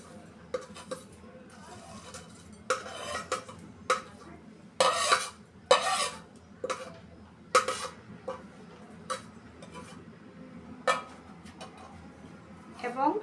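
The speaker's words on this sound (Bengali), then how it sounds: "এবং সব উপকরণগুলো একত্রে মিক্স করে নেব।" Spices and ingredients for aloo paratha, including chopped coriander, chili powder, garam masala and cumin powder, being mixed in a bowl, with scattered clinks and scraping taps of a utensil against the bowl, close and intermittent, with quiet background hum.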